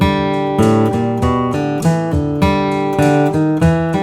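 A bluegrass guitar lead is picked over a train-beat drum track. Bright, loud notes strike in a steady, even rhythm of repeated attacks, with no voices.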